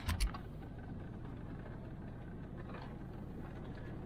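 A C3 Corvette with a freshly rebuilt QuadraJet carburetor runs steadily, a continuous mid-pitched engine drone close by, with a brief louder thump at the start and no talking.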